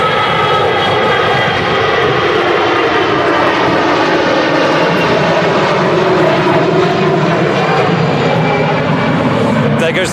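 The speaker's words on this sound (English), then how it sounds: "There goes the first departure off runway 1. It's a Jet2 A321." A Jet2 Airbus A321 roars steadily on departure from a Manchester Airport runway in stormy crosswinds, a loud continuous engine rumble with a wavering whine; someone talks over it.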